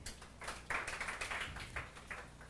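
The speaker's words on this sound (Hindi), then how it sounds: "वेरी गुड, ताली बजाओ इसके लिए" Students applaud in a physics classroom with a burst of hand clapping that swells and fades in uneven waves, fairly close and filling the room.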